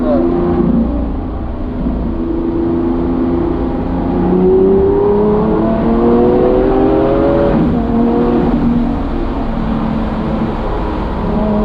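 Lamborghini Aventador S with four-wheel steering taking curves on a road, its engine humming close and steady inside the cabin, pitch rising and dipping gently through the bends.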